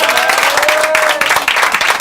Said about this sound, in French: Applaudissements, ouais.